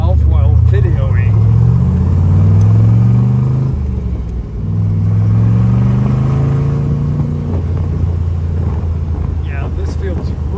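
A 1966 Chevy Corvette convertible with an L72 427 V8 cruises on the road, a loud, steady, low rumbling engine note with gear changes and revs rising and falling, heard from inside the car.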